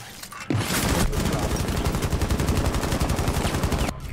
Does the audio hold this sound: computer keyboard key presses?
no